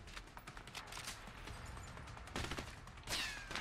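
Gunfire in the video game A Way Out, a rapid irregular burst of shots crackling through a busy, noisy scene, fairly faint overall with a sharper burst near the end, no speech.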